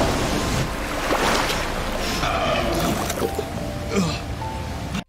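Waterfall water rushing in the Avatar movie, a loud, dense roar of falling water with washes of spray and wind-like noise, steady and close throughout.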